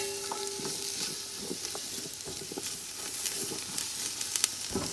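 Bell peppers being stirred in a frying pan for a Guyanese home-cooked dinner, with a steady sizzle and light scraping and clinks from the utensil running throughout, close and moderately loud, with no talking.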